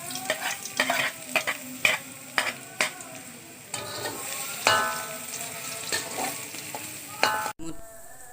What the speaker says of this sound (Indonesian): tumis bawang putih ke dalam wajan.